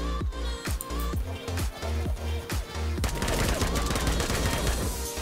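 Rapid automatic gunfire fills a match in the video game Code of War 2 on the Factory map, first as rhythmic bursts of heavy shots, then as a denser, continuous volley of overlapping rounds.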